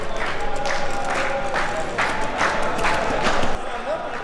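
Football fans cheer and chant near a stadium at a European match, a dense crowd roar with rhythmic swells of chanting that keep building, heard steadily throughout with some nearby voices mixed in.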